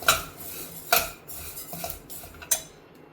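Dal and rice flour being dry-roasted and stirred in a pan over low heat, with a few sharp metallic scrapes and clinks of a spoon against the pan over a soft steady hiss.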